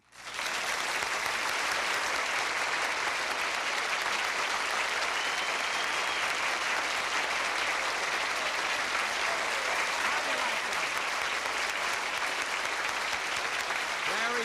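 Sustained, loud studio-audience applause greets Jack Benny on a televised Lawrence Welk Show special, a dense wash of clapping that holds steady for about fourteen seconds with no talk over it.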